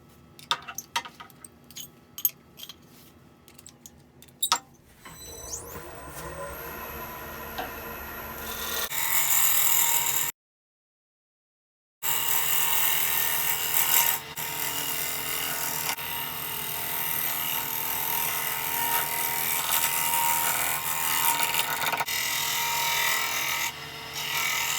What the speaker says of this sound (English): I've got the tool wrist kind of facing away from the surface of the wood to give me some more support while shear scraping